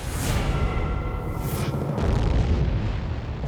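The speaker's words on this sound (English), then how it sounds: "It's another huge explosion in the skies over the Cape as an Atlas Agena rocket disintegrates in midair." An Atlas Agena rocket explodes in midair over the Cape, a sustained heavy roaring boom with rolling low rumble and a whooshing surge, loud and continuous throughout.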